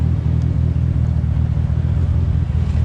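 A car engine idles steadily after a suspected blown head gasket, a loud, close, continuous low rumble with a smooth, even pulse and no voices over it.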